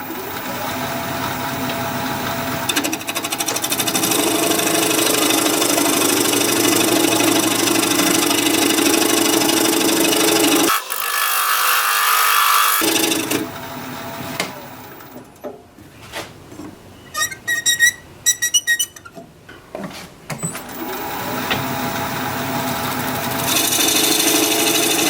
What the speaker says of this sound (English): I need about a 3¼ inch tenon for my big jaws, and I'm going to use a 5/8 inch bowl gouge for that.